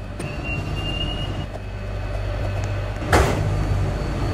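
Train doors slide shut at a station in a video game, heard as a single brief whoosh and thump over a steady low rumble of the idling train.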